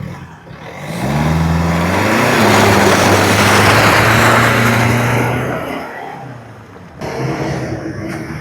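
A 2012 Ford Figo drives close by, its engine rising in pitch as it accelerates, then holding a loud steady hum with road and wind noise before it fades and another engine sound starts.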